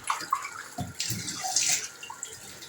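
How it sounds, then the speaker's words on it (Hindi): Tap water running while dishes are washed in a home kitchen, a steady splashing gush with small clinks and drips, close and continuous. "बर्तन भी बड़े अच्छे धो लेता है। लेकिन ये है कि पानी का बहुत ज़्यादा इस्तेमाल करता है"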